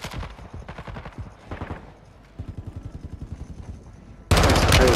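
Kastov 762 AK-style rifle in Call of Duty MW2 firing rapid automatic bursts, sharp repeated cracks in quick rhythm with short pauses between strings, loud and close, ending in a louder noisy blast.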